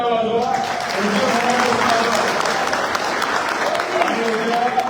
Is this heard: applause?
yes